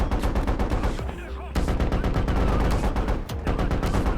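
Heavy machine guns on a technical in a military shooter set in the streets of Fallujah, several weapons hammering out rapid, continuous bursts up close and loud, with a brief lull around the middle before the firing resumes.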